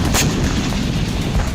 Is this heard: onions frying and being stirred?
no